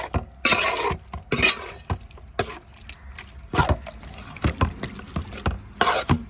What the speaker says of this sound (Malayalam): പിന്നെ ആവശ്യത്തിനുള്ള വെള്ളം കൂടെ നമുക്ക് ഒഴിച്ചു കൊടുക്കാം നല്ലപോലെ ഒന്ന് മിക്സാക്കി കൊടുക്കാം